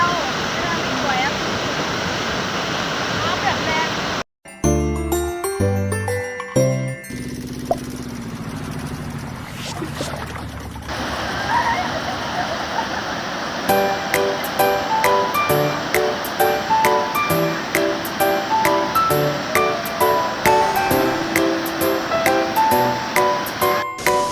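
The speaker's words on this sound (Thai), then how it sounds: "อ๋อน้ำตกกระทบไป" Water crashing down at the Tham Phra 2 waterfall in Mueang district, Bueng Kan, Thailand. A steady rushing roar that is cut briefly and then runs on under loud background music.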